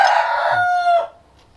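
A rooster crows once nearby, a loud drawn-out cock-a-doodle-doo that fades out, followed by near silence, no talk.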